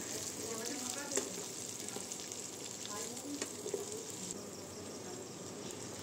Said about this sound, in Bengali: এবার সেগুলো হালকা হালকা করে একটু ভেজে নেব